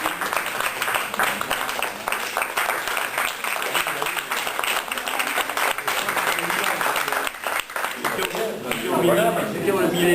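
A room of Rotary Club members in Urrugne, Côte-Basque, applauds the new club president with sustained, fairly loud clapping, a voice briefly audible as the ovation continues steadily.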